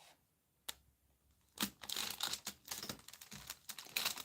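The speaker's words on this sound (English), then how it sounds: "Let's cut this into half." Leftover craft clay being cut in half with a blade, a quiet click followed by a run of soft, crinkly cutting and scraping strokes at close range, with no talking.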